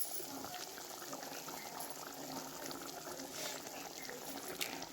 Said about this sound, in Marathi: पाणी ॲड करूयात आणि एक उकळी काढून घ्यायची